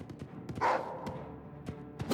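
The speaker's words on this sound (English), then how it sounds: "They actually made the dogs look like dogs." A dog in the video game Oblivion Remastered gives a short bark amid scattered thumps and game noise, moderately loud and close.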